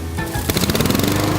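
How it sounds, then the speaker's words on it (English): A lawn mower mulches autumn leaves in a yard with a loud, steady engine drone. Rapid chopping pulses join about halfway through as the blade bites into the leaves. There is no talk. "Using your lawnmower to mulch the leaves in your yard is easier and kinder to your grass."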